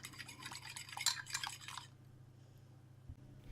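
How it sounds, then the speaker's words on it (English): One egg being beaten in a bowl: quick, light clicking and sloshing strokes for under two seconds, then they stop, leaving a low steady hum and one faint knock. "Let's beat 1 egg."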